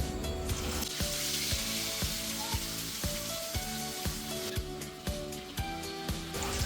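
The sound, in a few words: fish pieces frying in oil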